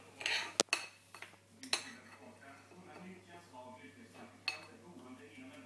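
A teaspoon clinks and scrapes against small jars while portioning a homemade lip scrub, with a few sharp metallic taps standing out over quiet background, close and faint, a voice talking softly in the background.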